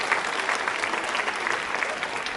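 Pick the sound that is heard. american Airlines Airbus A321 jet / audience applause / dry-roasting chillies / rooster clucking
audience applause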